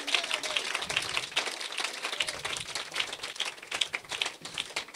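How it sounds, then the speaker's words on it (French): A church congregation at a revival meeting in eastern Côte d'Ivoire claps by hand in quick, uneven bursts, a moderately sized crowd heard close and fairly light rather than thunderous. "Donnez-lui une bonne main d'acclamation."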